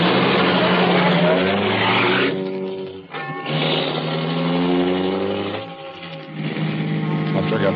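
A car drives along a road at a steady, continuous hum from start to finish, with the engine tone rising and falling as it moves, and a brief lull near the middle before it picks up again.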